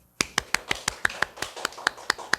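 Hand clapping during a church service: about a dozen sharp, evenly spaced claps in a quick, steady rhythm, close and fairly loud, with no talk over them.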